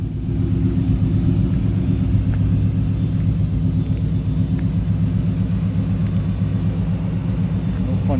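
A 1987 GMC Sierra Classic squarebody pickup engine idling, a loud, close, steady low rumble with a throbbing beat running throughout.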